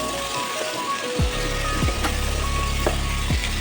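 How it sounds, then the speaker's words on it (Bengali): Chopped tomato and turmeric powder sizzling in hot oil with egg, potato and onion curry: a steady loud frying hiss, punctuated by a few stirring scrapes, no voices. "দিয়ে দেবো একটা টমেটো কুচি আর দিয়ে দেবো এক চামচ হলুদ গুঁড়ো দিয়ে এটাকে ভালো করে ভেজে নেব"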